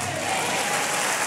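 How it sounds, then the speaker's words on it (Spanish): Church congregation at a worship service breaking into sustained applause, a thick, even roar of many hands clapping together. "Demos un aplauso grande al Señor."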